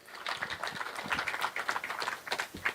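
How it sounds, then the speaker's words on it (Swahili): Audience applause at a club address in Ruiru, Kenya: faint, scattered clapping from a crowd, steady and fairly distant. "Pigieni Medhu makofi mzuri"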